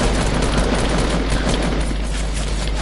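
Gunfire in Fortnite crackles in a dense, continuous burst, loud and close for a few seconds with no talk over it.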